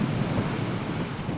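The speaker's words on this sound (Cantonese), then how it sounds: "杏花村嘅海旁不斷有浪拍打上岸" Typhoon waves pound the Heng Fa Chuen seafront in Hong Kong under a number eight gale signal: a continuous, dense roar of surf and gusting wind buffeting the microphone.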